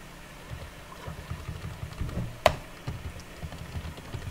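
Someone types a message on a computer keyboard, a quiet irregular patter of soft keystrokes with one sharper tap midway, close by.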